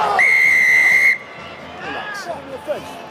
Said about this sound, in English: A very long blast of the whistle there by Wayne Barnes.